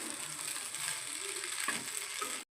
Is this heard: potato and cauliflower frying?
yes